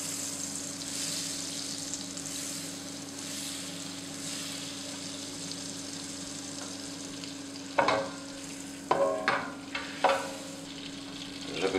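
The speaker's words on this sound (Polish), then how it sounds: "I lekko je obsmażymy na patelni, na masełku, z dodatkiem oleju." Carp fries gently in a pan with butter and a little oil, a soft steady sizzle over a low hum, with a few louder clattering bursts from the pan near the end.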